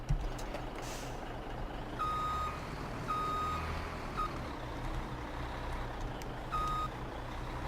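Reversing beeps from a truck backing up with a trailer in Farming Simulator 17, steady repeated electronic beeps over a constant engine rumble, with an air brake hiss, moderately close.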